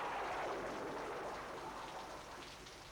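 Steady, dense rain falls continuously as a loud, even hiss, with no voices heard.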